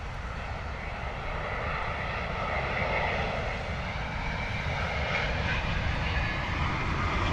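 A British Airways Boeing 787-8 Dreamliner arriving from Pittsburgh lands at London Heathrow, its engines a steady, fairly close broadband roar that swells slightly midway and holds throughout.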